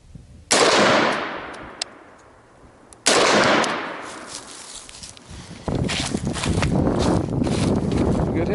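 Shots from a 7.5-inch short-barreled AR-15 rifle on an outdoor course ring out as three loud, sharp cracks a few seconds apart, each trailing off in a long echo, followed by shuffling movement.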